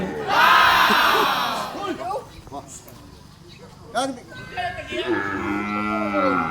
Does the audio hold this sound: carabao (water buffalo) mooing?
yes